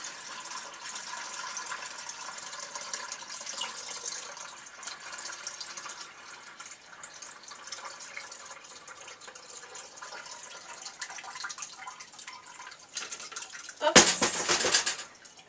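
Tap water runs steadily while homemade butter is rinsed of buttermilk, a soft continuous splashing that ends in a brief, louder gush near the close.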